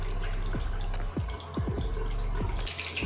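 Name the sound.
washing with soap and running tap water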